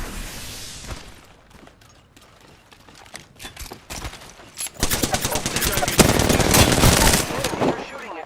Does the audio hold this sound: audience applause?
no